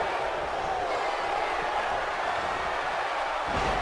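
Wrestling crowd at an independent wrestling show cheers and roars continuously, a dense, steady wash of many voices filling the hall throughout.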